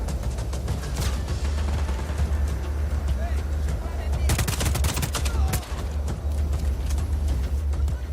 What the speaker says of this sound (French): Ah, quelqu'un nous tire dessus derrière.